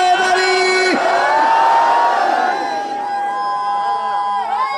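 A large crowd at a religious gathering of a zakir roars the slogan Nara-e-Haidari in unison, loud sustained voices rising together and trailing off into scattered shouts.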